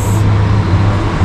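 A Busscar Vissta Buss coach rumbles close by with a steady low engine drone and road noise, loud and continuous with no talking over it.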